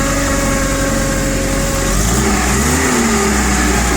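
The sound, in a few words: TCM FG15 forklift engine running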